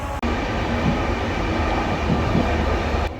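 A passenger train in Poland rumbles along in a steady, loud, close roar with faint rhythmic wheel knocks, heard from on board or right beside the track.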